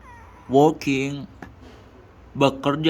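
A cat meows close to the microphone: two drawn-out, wavering meows in quick succession, then a short pause and two more, loud and clear over quiet room background.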